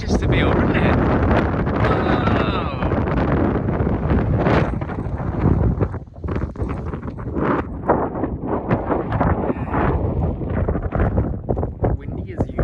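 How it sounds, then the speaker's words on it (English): Strong wind gusting and buffeting the microphone on the coast of Yorke Peninsula, South Australia, a loud rumbling roar that rises and falls throughout, with people talking underneath. "Windy as usual."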